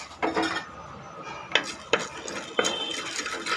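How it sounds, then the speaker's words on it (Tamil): Black pepper and cumin dry-roast in a heated clay pot, with a spoon scraping and clinking against the pot in several distinct strokes over a faint background rustle. "மிளகு ஜீரகம் வந்து வறுத்தலாம்."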